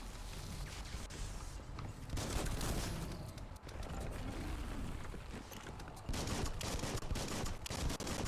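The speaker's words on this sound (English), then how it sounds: "Bullets everywhere." Dense bursts of automatic gunfire and scattered shots crackle continuously in a Biomutant firefight, layered over game ambience with no let-up.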